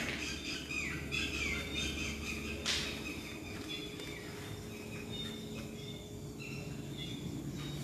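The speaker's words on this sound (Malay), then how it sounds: "Bunyi burung semakin galak" Birds call and squawk in the distance over a constant buzzing background of insects, with a brief rustling burst partway through.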